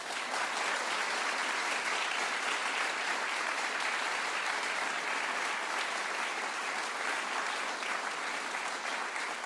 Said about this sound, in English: Okay, applaud.